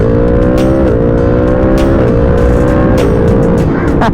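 A 2020 Yamaha MT-10 crossplane engine revs hard and loud up close, its pitch stepping upward in repeated climbs as the throttle is worked, with no talk over it.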